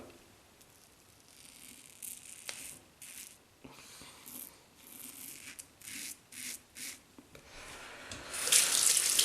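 A double-edge safety razor, an Edwin Jagger DE89L, rinsed under a running tap at a sink, a soft flow of water with repeated splashing bursts as the blade is passed through, growing louder and fuller at the end.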